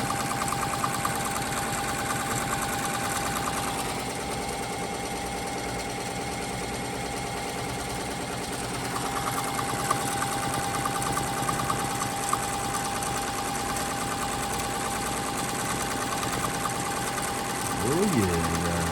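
Embroidery machine stitching the trace, lay-down stitch for an appliqué on clothing, a steady close mechanical whir and rapid needle chatter running throughout, with a brief change in tone partway through.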